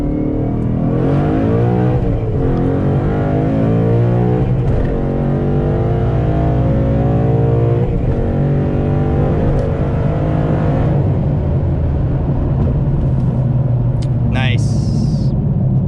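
A 2021 Ford Bronco's engine pulls hard on an open freeway, a loud sustained rising roar that drops and climbs again through a couple of downshifts, with someone talking over it throughout.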